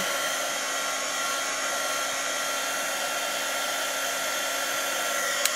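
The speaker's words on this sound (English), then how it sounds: "Let's dry this a little bit." A hair dryer blows steadily and loudly at close range while drying a rice paper and magazine cut-out collage on canvas, a constant whooshing hum with no break.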